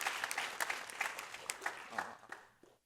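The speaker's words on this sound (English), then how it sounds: "Give yourselves a round of applause for" An audience at an ethics symposium at CSUS claps enthusiastically in a dense burst of applause that tapers off and stops after a few seconds.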